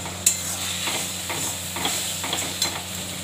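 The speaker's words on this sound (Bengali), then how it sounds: "ওই দেখুন কষাচ্ছি" Spices with turmeric and salt being stir-fried for chicken, a steady close sizzle with rhythmic spatula scrapes and a few sharper clicks against the pan.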